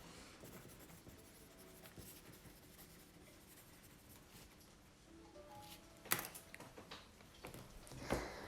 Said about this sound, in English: Let me write it down because I'm totally going to forget.